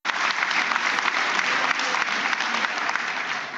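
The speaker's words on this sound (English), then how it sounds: "Give a big round of applause for that." An audience at a summit applauds, a dense, loud and steady clapping that starts abruptly and keeps going at full strength throughout.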